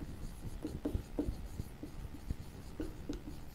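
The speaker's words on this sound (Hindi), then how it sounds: "इसको मैं ऐसे लिखता हूँ" Pen scratching on paper while working out a Laplace transform calculation by hand, soft irregular strokes and taps close to the microphone, with no voices.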